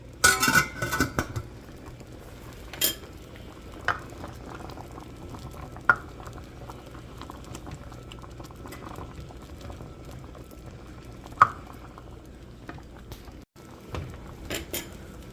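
Pot of sinigang na buto-buto, a Filipino pork rib soup, bubbling on the stove as a soft steady simmer, with occasional louder clinks of a utensil or lid against the pot.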